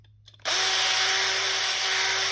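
A cordless electric drill switches on abruptly and spins at a steady high whine, loud and close, used to turn a pool cue shaft for fitting a taper tip; no talking.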